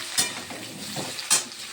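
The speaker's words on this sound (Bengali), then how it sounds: "আলুগুলো ভাজছি" Potatoes frying in a pan in a home kitchen, a constant sizzle with a couple of sharp metallic scrapes and stirs of a spatula against the pan, close and fairly loud.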